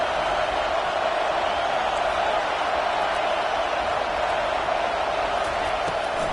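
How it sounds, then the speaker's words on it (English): A packed football stadium crowd roars continuously during a defensive play, a dense loud wall of cheering and noise with no break. "Listen to this crowd just shaking the girders of this place,"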